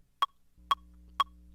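Three crisp, evenly spaced metronome ticks, close and clear, over a faint low steady hum.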